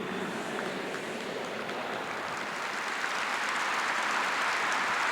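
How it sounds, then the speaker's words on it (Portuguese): Steady, dense applause from a large crowd at a Catholic talk on marriage and family, a continuous wash of clapping that holds evenly and swells slightly toward the end. "Vamos aplaudir Dom Carlos Petrini"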